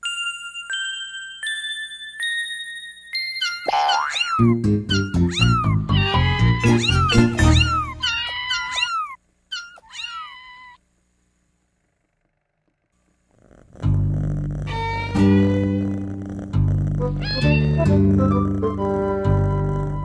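Several kittens meow in high, repeated cries, overlapping and fairly loud, with a short silent gap before another burst of meowing.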